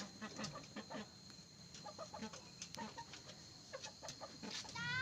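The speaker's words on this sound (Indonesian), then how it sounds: "Ayam bergerak menggunakan kakinya" A chicken gives a run of short clucks at moderate volume, spread irregularly over several seconds, with faint background rustle and no talking.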